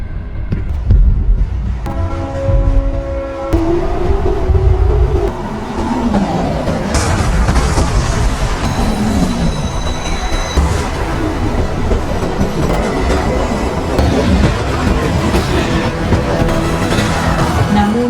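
A train rumbles past steadily, with a loud low roar and some rattling, though a music-like tonal layer runs through it.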